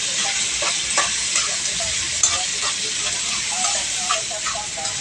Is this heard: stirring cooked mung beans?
yes